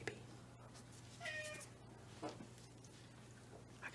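A house cat meows several times at close range in a quiet room. The drawn-out cries rise over a low, steady hum, with faint rustling between them.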